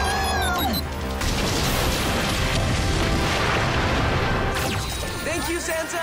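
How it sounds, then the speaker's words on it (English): A bomb going off in a Power Rangers Super Ninja Steel episode: a loud, sustained crashing boom with debris-like rumble filling the scene, continuing for several seconds before tapering slightly near the end. "Look what they got you. It's a bomb!"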